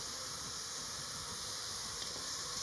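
Water poured into a hot pan while making spinach soup gives a steady, broad hissing sizzle with rising steam that holds evenly for the whole stretch, with no talking.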